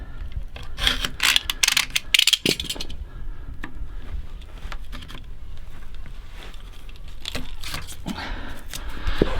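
Scraping and rasping as laminate is cut away from the bottom roll of a laminator with a screwdriver, down toward the metal core. Close, irregular bursts of friction with a few sharp clicks, fairly loud and continuous, with no talking.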